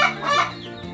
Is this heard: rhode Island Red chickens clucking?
yes